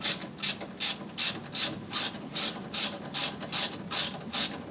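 A ratchet loosening bolts on a Saab 9-5 during a 308mm brake caliper upgrade, giving a steady run of about a dozen sharp, evenly spaced clicking bursts, close and alone without talk.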